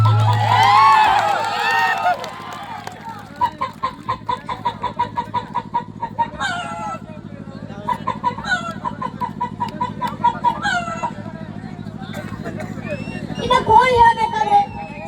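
A human voice imitates a hen clucking, loud and close, in a long run of rhythmic, evenly spaced clucks that briefly pauses and resumes, ending in a busier burst, after an opening stretch of louder vocalizing.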